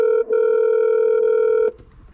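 Steady loud ringback or dial tone on a phone placed from a car stranded out of gas in a remote spot, one continuous tone with a brief gap near the start, cutting off abruptly into faint background noise.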